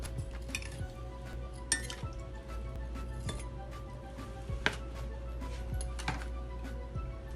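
Frozen ice cubes clink into a glass of sikanjabeen, a lemon drink with Rooh Afza, giving a few sharp clinks and taps against a low steady room hum, no voices.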